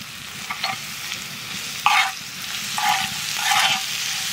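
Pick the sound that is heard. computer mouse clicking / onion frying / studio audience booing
onion frying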